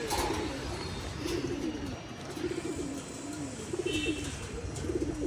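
Soft, repeated cooing of Kolkata pigeons in a rooftop loft carries through steady background noise, the low throaty calls recurring every second or so in a continuous murmur.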